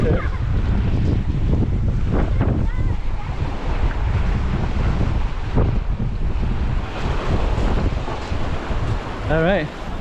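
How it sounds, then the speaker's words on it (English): Strong wind buffets the microphone at a Lake Huron boardwalk, a constant loud roar mixed with surf, while people talk faintly underneath. "It is pretty windy, isn't it?"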